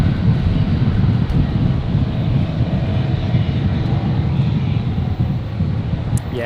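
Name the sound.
strong wind at Brisbane Airport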